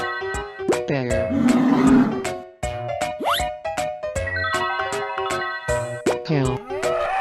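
A bear growls and roars in short, loud bursts over a bouncy cartoon soundtrack, with boing-like effects and plopping sounds mixed in around it.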